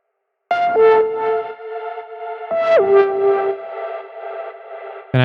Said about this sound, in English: The nice Sebastian reverb and sidechain.